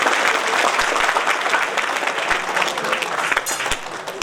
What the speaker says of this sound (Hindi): ताली देना चाहिए ना?